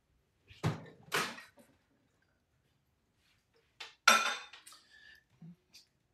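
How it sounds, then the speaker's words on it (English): Container of candle wax and dye set into a microwave, heard as a few close clunks and clinks of the dish and door, two bursts early then a sharper knock and rattle later, with quiet gaps between. "So let me just put that in the microwave right now."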